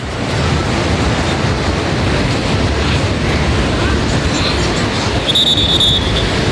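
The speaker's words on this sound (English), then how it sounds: "the tides are really, really rough" Rough sea waves break at Baga Beach in Goa, a loud, continuous roar of surf mixed with wind buffeting, steady throughout with no clear pauses.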